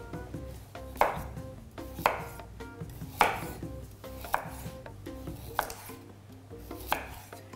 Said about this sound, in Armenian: Մշակենք գազարը, կտրատենք հարմար կտորների։